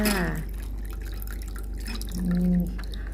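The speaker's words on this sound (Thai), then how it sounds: "ถุงเสร็จแล้วก็ เทใส่ชาม ใส่ถ้วยกันค่ะ" Soy milk is poured from a plastic bag into a bowl, giving a soft, steady liquid trickle and drip close by, with brief talking at the start and again near the end.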